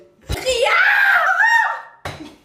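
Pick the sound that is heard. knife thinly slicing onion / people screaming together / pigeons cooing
people screaming together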